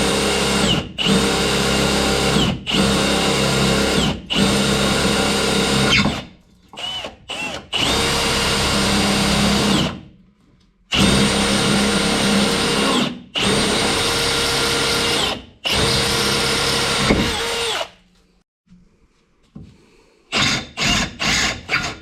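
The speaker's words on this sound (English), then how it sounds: "So we'll drill these holes now next anyway." A power drill bores holes in a Nissan Navara for fitting reverse lights, loud and close, running in repeated whining bursts of a second or two with short pauses between, then a few quick stuttering pulses at the end.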